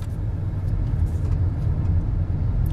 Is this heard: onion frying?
no